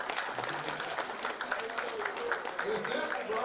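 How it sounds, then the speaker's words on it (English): Audience applause at a youth national championship football media day, a short burst of steady clapping from a small crowd, close, with people talking over it. "Y'all clap it up for my man over here."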